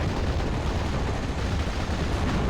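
Dense, continuous gunfire and distant artillery rumble from a Steel Division: Normandy 44 battle at Pointe du Hoc, a steady loud wash of rifle and machine-gun shots with no talk over it.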